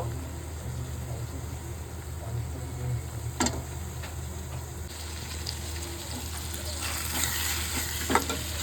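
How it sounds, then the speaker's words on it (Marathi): Chicken masala with green paste sautés in oil until the oil separates. A soft, continuous frying hiss sits over a low hum, with occasional stirring scrapes and a slightly brighter sizzle toward the end. "आपण मस्तपैकी परतवून घेऊया आता तेल सुटेपर्यंत"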